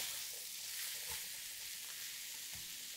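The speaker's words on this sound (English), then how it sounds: "So I'm going to tip in my pinto beans." Pinto beans just tipped into a pan and given a little stir: faint, even sizzling hiss with a couple of soft utensil knocks, no talking.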